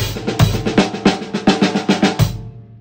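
A drum kit plays a short, steady rhythmic pattern of punchy hits, close and loud, ending in a brief ringing decay.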